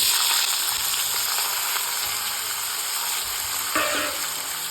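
Vegetables stir-fried in hot oil in a home kitchen, a steady close sizzle with scraping stirs throughout and a brief clatter near the end.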